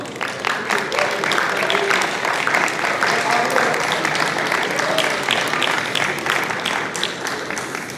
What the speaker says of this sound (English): Big round of applause for Danny,